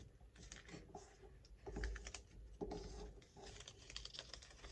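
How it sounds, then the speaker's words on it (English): Paper being creased and folded for an origami fighter jet, a run of soft crisp taps and rustles close by with no voice. "So you're gonna wanna fold these."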